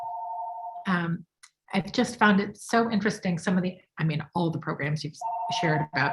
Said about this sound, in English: I apologize for the phone ringing in my background at the moment